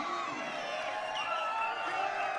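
A crowd at a billiard trick shot competition, USA versus Europe, cheers and whoops in a sustained roar throughout, with voices of commentators blended into the noise.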